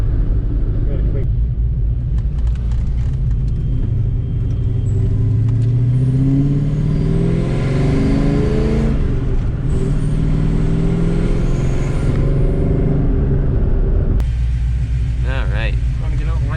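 A Mustang with a freshly assembled engine drives on its first ride, a loud, continuous low engine rumble that rises and falls with acceleration and stays close throughout.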